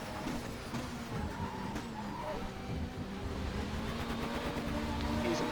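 A race car brakes hard in a racing video game, with engine roar and tire squeal sustained under a steady, loud mix of motor noise.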